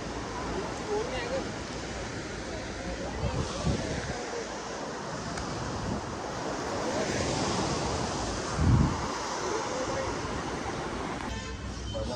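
Ocean waves roll onto a beach at Gokarna in a steady, loud wash of surf, with wind buffeting the microphone and people talking faintly beneath.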